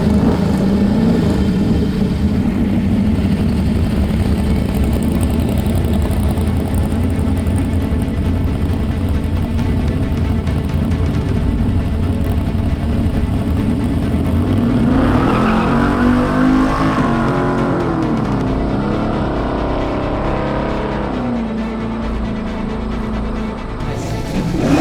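A nine-second street-racer Chevelle roars on a test drive, its loud, close engine rumble holding steady, then surging and climbing in pitch with a rising rev partway through, and easing slightly near the end.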